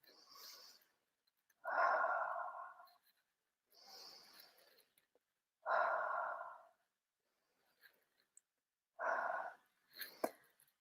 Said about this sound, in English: take 3 deep breaths in your belly